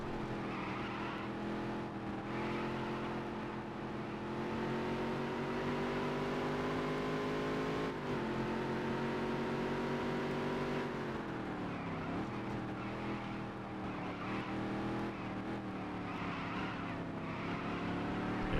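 A modified race car engine in the Dirt to Daytona racing game drones steadily at high revs, with pitch dips and rises through corners and shifts, loud and continuous without talk.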